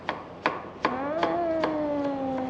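A knife chops a tomato with its peel on, cutting on a board in a kitchen, with a quick series of crisp, evenly spaced taps. Close and fairly quiet, with a faint tonal ring lingering underneath.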